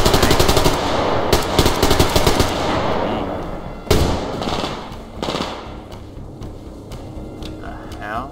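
AK rifle fire in the Survarium shooter game: loud rapid automatic bursts up front, then scattered single shots and a sharp blast with echoing tails fading out.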